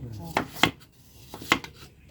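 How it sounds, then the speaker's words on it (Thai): Sharp knife thinly slicing wild yam by hand, giving two pairs of crisp close cuts with brief scraping between them and no talk. "ฝานบางนะครับผม มีต้องคมหน่อย"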